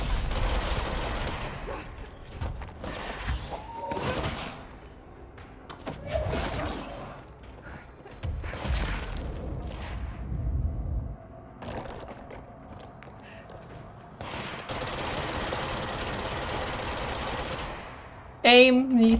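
In the game Control, gunfire rings out while the character levitates: repeated close bursts of shots separated by short gaps, with whooshing and mechanical sounds between, ending in a brief sharp tonal chime.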